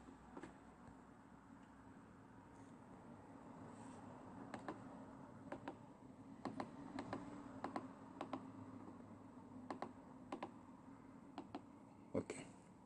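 Password being typed on a computer keyboard, with scattered sharp key clicks in uneven bursts over a quiet hum, close and soft.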